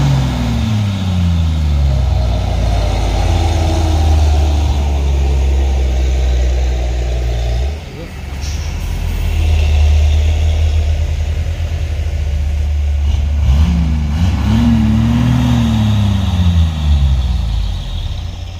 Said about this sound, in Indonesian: 3 unit truk tangki dari bawah sana bosku.